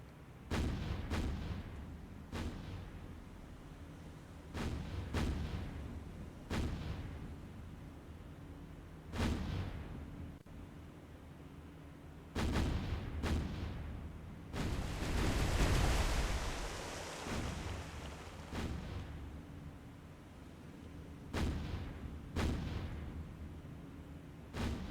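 Naval gunfire from warships in the War on the Sea naval game, set around Murmansk: repeated deep booming salvos at irregular intervals, some distant and rumbling, with one louder rushing blast midway.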